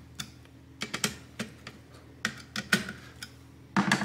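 Screw being tightened inside a Dell Optiplex 7060 Micro desktop, heard as a series of small sharp ticks and clicks at irregular intervals, close and fairly quiet.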